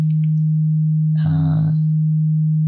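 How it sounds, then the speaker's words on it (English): A steady, low pure sine-wave tone from a two-operator FM synthesizer on an M8 Tracker hums throughout, with a brief buzzy burst in the middle. "As we turn it up, we get more of a sine wave."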